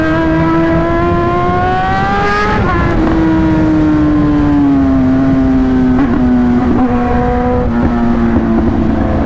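A loud, close Suzuki GSX-R1000 motorcycle engine revs up, then settles into a steady droning hum that slowly drops in pitch.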